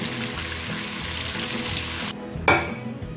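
Oil sizzles and crackles steadily as chicken for pepper chicken fries golden in a pan, with a short clatter of a utensil near the end.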